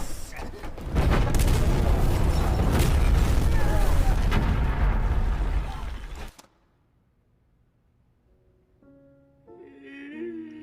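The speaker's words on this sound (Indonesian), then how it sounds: "Seoul juga akhirnya menembak bom yang konslet. Ledakan bom itu membuat Profesor menangis atas kematian Berlin adiknya." A faulty bomb is shot and explodes in a heist film scene, a loud, sustained blast and rumble lasting several seconds that cuts to near silence, followed by faint tonal sounds.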